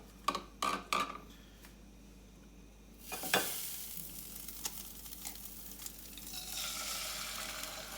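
Bacon and egg fry in a pan for a sandwich: a few sharp utensil clinks open, then a soft, steady sizzle builds with occasional scrapes and taps, close and quiet.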